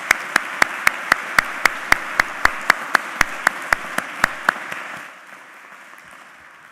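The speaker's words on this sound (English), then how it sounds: "Why don't we give them a round of applause for their efforts?" Crisp, evenly spaced claps ring out in a steady rhythm over a university commencement hall's background murmur, stopping abruptly and leaving quiet room noise.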